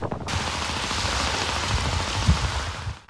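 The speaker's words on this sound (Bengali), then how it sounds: "পটুয়াখালীর রাঙ্গাবালী ও পায়রা সমুদ্র বন্দর এলাকায় থেমে থেমে বৃষ্টি হচ্ছে।" Rain falls along the Bay of Bengal coast near Rangabali and Payra port in Patuakhali during a deep depression, a steady, dense hiss of drops hitting surfaces that carries on without a break, with no voices.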